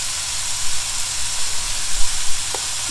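Cumin seeds sizzle in a hot pan with a loud, steady, bright hiss that carries on without a break, and a low hum sits underneath.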